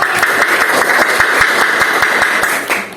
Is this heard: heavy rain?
no